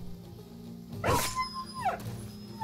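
A dog yelping and whimpering in the video game Battle Brothers, one sharp close yelp followed by a short whining cry over a quiet game background.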